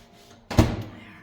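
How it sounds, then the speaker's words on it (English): A kitchen microwave door shuts with a single close, solid thunk during cleaning, a brief rattle trailing off after the impact in an otherwise quiet room. "So open the door when I'm wiping it off."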